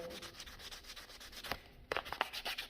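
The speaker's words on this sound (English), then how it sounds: "I'm just going to start shaping it with the sandpaper." Sandpaper rubs an HDPE key ring in quick repeated back-and-forth strokes, a close, quiet rasping with a short pause midway.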